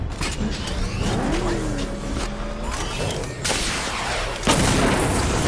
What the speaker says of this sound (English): activate missile barrage